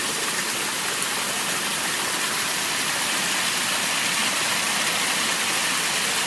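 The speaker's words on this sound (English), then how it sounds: "Here's the next waterfall that's just like a few feet away from the other one." Waterfall beside a trail on an Appalachian Trail section hike, a few feet from another falls: a steady, dense roar of falling water that fills the whole clip, loud and close with no let-up and no voices.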